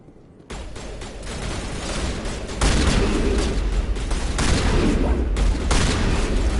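Gunfire and booming blasts in the video game Mass Effect Legendary Edition, a loud, dense barrage after a brief quieter start, swelling further midway and continuing without speech.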